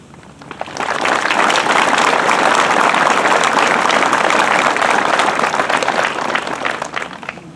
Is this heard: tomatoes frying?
no